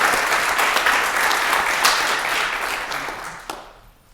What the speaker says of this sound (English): So can we just give a round of applause for all organizations that continue to stand with us in solidarity.